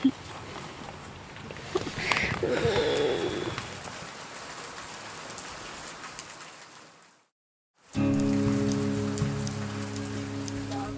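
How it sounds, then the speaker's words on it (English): Steady rain patters onto a surface outdoors, a dense, continuous hiss that grows louder for a few seconds, cuts out briefly to silence, then returns at full strength with a low droning hum underneath. "the rain continues"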